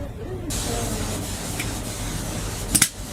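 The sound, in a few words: air feed from brake caliper testing machine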